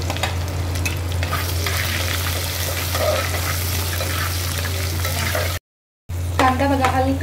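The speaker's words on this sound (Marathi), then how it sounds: "आपण उभा चिरलेला कांदा घालायचा आणि हलका गुलाबी रंगावरती मस्त फ्राय करून घ्यायचा आहे" Thinly sliced onion frying in a dal tadka, a loud continuous sizzle with spoon stirring over a steady low hum, briefly cutting out near the end before the crackle returns.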